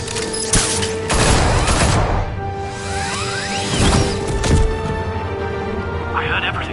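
Rapid bursts of gunfire aimed at Batman in the Telltale Batman video game, loud and dense, mixed with whooshes, booms and crashing impacts as the shooting swells and fades in waves.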